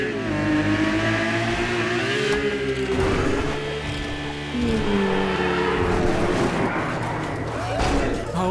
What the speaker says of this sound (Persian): ماشین بد راه داره میره الان